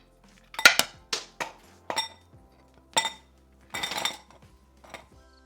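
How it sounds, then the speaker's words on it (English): Ice spheres dropped one by one into a glass, about eight bright clinks and knocks in an irregular rhythm, close and clear in a quiet room with no talk. "I filled the glass with ice spheres."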